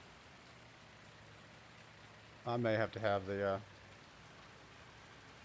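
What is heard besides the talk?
rain in Farming Simulator 19 video game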